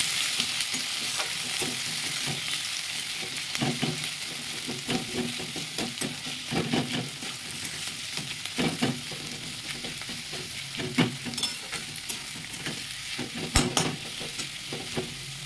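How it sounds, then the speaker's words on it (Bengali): Chopped onion and garlic frying in oil in a pan for mutton kosha, a steady close sizzle with intermittent stirring scrapes and clatters throughout, no talking. "রসুনটাকে কিন্তু বেশি ভাজা হবে না, অল্প ভাজাতেই পেঁয়াজটা দিয়ে দিলাম"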